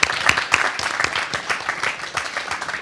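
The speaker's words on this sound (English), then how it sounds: "can we just get a round of applause for all of the business who have come up here and pitched today?" An audience at a business pitch competition finale bursts into sustained clapping, a dense crowd applause with sharp individual claps, close and fairly loud, with no voices over it.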